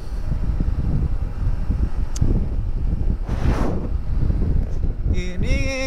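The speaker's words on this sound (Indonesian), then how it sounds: "ini dinginnya dari anginnya, ini lumayan cukup kencang" Fairly strong, cold wind buffets outdoors along a smooth road, a loud continuous rushing roar with gusty microphone noise, briefly joined by a passing swish and a faint tonal sound at the end.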